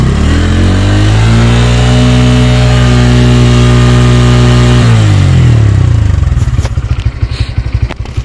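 A 2024 Bajaj Pulsar N150 motorcycle engine is held at a loud, sustained high rev near 8000 rpm, its pitch easing slightly before it drops back to a rough, pulsing idle, very close with no talking.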